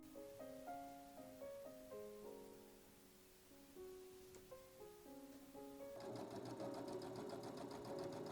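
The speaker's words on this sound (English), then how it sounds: "And then I got to sewing the lining pieces together." A sewing machine stitches jacket lining pieces together, its motor humming in steady bursts that shift pitch, closing with a louder, faster run near the end.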